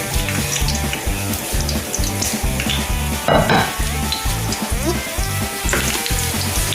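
Dumplings fry in a pan with a loud, steady sizzle and crackle. A utensil scrapes and stirs through it in a repeating rhythm, and a brief louder burst of spattering comes midway.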